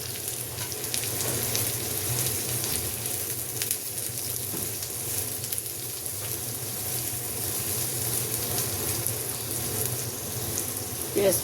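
Sliced onions sizzle and crackle steadily in hot oil in a frying pan for a Bangladeshi nihari tempering, a dense continuous hiss with occasional stirring scrapes, close and alone.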